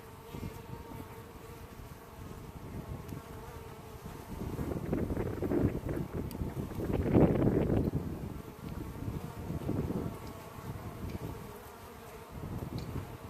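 A steady, dense buzzing of many honey bees close by around a hive in fall, swelling and easing in waves over faint background wind.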